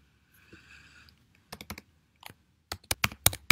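A library card number is typed on a computer keyboard, with close, crisp key clicks in short uneven bursts after a soft hum and a brief quiet pause.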